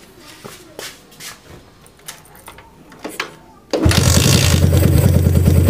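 A Yamaha Jupiter MX motorcycle fitted with a PE carburetor is kick-started. A few quiet clicks and clunks come first, then the engine catches with a sudden loud burst and settles into a steady, close, buzzing idle.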